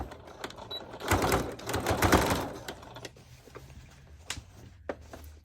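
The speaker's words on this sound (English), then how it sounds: "We're going to sew all the way around." A sewing machine stitching a fringed hem around the leg of bell-bottom jeans: a fast, loud mechanical chattering run in the first half, then quieter clicks and taps as the fabric is adjusted.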